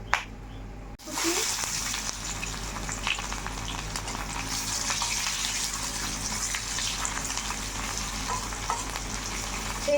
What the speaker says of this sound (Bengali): পেস্টটাকে হালকা ভেজে নিব।